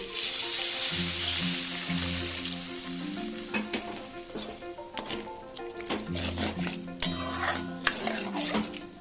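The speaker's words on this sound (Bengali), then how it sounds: "জলটা দিয়ে আমি একটু নেড়ে দিলাম।" A fig and potato curry gets stirred in a pan just after water is added, with a bright hiss of sizzling at the start giving way to repeated scraping and clinking of a spoon against the pan.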